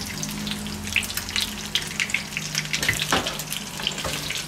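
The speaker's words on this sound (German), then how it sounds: "Im Hintergrund brutzelt es noch." Meat patties (Fleischpflanzl) sizzle on a grill, giving a continuous crackling hiss with scattered sharp pops, close and fairly loud, with no talking.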